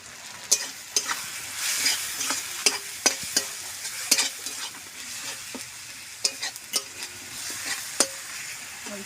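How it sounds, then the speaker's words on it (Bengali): Chili powder, turmeric and Kashmiri chili powder sautéing with a splash of water in a pan, a soft sizzle under frequent sharp scrapes and taps of a spatula against the pan, close and steady with no talking. "মশলাটা ভালো করে কষে নেব।"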